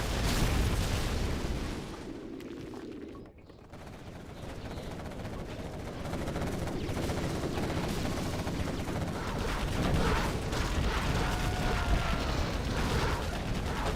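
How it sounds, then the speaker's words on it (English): Carpet bombing in the Generals Zero Hour real-time strategy game: a dense, continuous roll of heavy blasts and rumbling booms, loud throughout, easing briefly before swelling again. "Ooh, here comes the carpet. It's actually going to carpet his own stuff."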